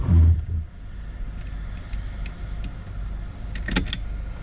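Road traffic during a September storm chase, cars swishing past at a distance under a steady low rumble, with a louder passing at the start and a few faint clicks and squeaks near the end.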